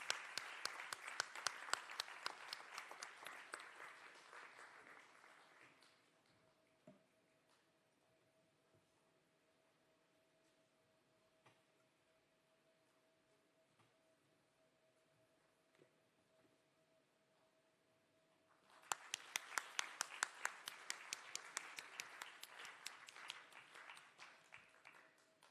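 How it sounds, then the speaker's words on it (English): Audience applause at a school junior chef grand finale, a sustained burst of clapping from a crowd, then quiet with a faint steady hum, then another long round of applause, heard from a distance. "let's give them a very big round of applause"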